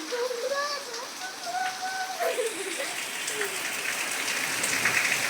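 Steady rain of the year's first downpour patters and hisses all around, with people's voices talking and laughing in Marathi over the downpour.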